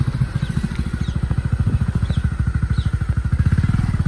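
A motorcycle engine runs steadily close by, its single even chugging pulse repeating fast and loud for the whole stretch with no voices over it.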